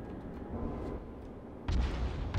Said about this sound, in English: Firing mass AP rounds.